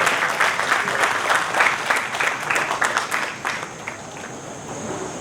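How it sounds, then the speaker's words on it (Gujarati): An audience at a Jain educational event claps to welcome the speaker Parasbhai, dense continuous applause that stays loud and then eases slightly toward the end. "આવો પારસભાઈને આપણે પહેલાં તાળીથી વધાવીએ."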